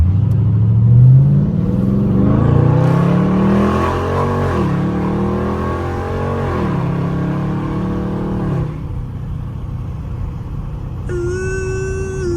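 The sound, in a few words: Dodge Scat Pack car engine revving while driving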